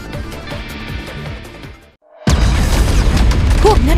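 A missile explodes in a city street in a CounterSide video game cutscene: background sound fades into a brief silence, then a sudden loud, close blast erupts into a sustained roar.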